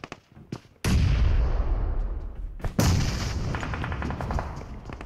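Two heavy bomb blasts thunder in a video game firefight, each a sudden loud boom followed by a long rumbling decay, with smaller gunshot cracks before the first.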